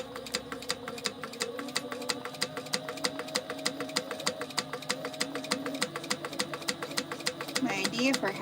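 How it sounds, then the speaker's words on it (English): Sewing machine stitching a quarter-inch seam on plaid basketweave fabric for a tote bag, a rapid, even needle rattle running continuously and close, with a brief change in the motor near the end. "we're gonna sew that a 1/4 inch"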